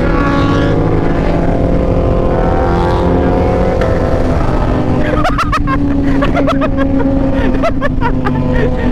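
A 600cc sport motorcycle cruises along an expressway, its steady engine drone and wind roar continuous and loud, with a few sharper mechanical ticks partway through.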